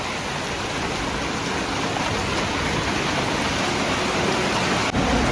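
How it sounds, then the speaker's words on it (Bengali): Heavy morning rain falls outdoors in a steady, dense roar of hiss that stays even and unbroken throughout, with no voices. "বৃষ্টি পড়ে আছে"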